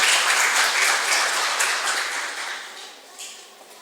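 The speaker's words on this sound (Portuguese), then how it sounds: "Recebamos com aplausos a nossa convidada da noite de hoje," An audience at a special evening session applauds to welcome a guest speaker, a full burst of clapping that starts loud and gradually thins and fades toward the end.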